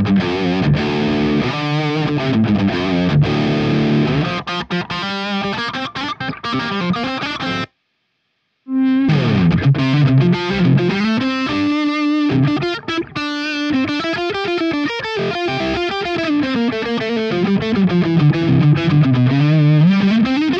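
A distorted electric guitar plays a rock line through the cabinet of the Amped GNR amp plugin by ML Sound Lab, giving a thick, saturated and somewhat scooped tone, loud throughout apart from a short silent gap partway in.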